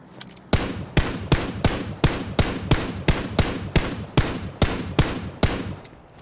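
Gunfire from a battle royale video game: loud, evenly spaced shots fired in a steady rhythm of about two or three per second, each with a short decay, with no talking over them.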